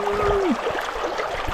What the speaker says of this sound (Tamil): நீங்கள் எப்படி பயங்கரமாக தண்ணி போகுது பார்த்தீங்களா?